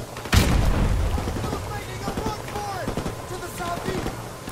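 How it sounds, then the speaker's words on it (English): A grenade explodes in Call of Duty: Modern Warfare Remastered with a sudden loud boom near the start, its heavy rumble fading over several seconds while gunfire and game noise continue and players talk. "Oh my god, grenade."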